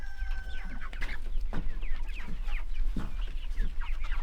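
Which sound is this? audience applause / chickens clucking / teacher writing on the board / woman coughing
chickens clucking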